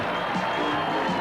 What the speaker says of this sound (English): They're cheering from the rooftops at South Sydney.